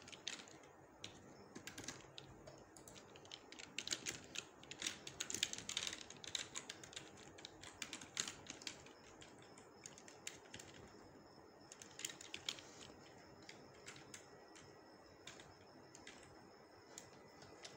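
Text typed on a computer keyboard, a quiet, close run of rapid uneven key clicks in bursts with short pauses, no talking over it.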